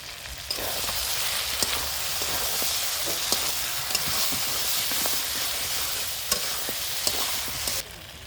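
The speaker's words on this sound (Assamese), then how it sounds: "মই মছলাখিনি দি 2 মিনিটমান ভাজি লৈছোঁ" Cumin and coriander masala fries in hot oil for mutton pulao, a steady close sizzle broken by sharp clicks of a spoon scraping the pan, with no talk.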